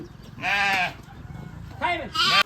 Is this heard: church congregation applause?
no